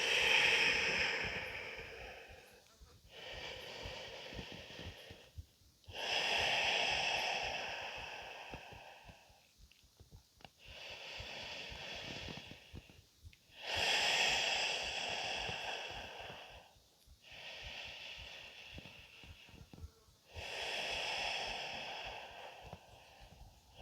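Slow, deep yoga breaths through the nose, alternating long inhales and exhales in an even rhythm, close and quiet with pauses between.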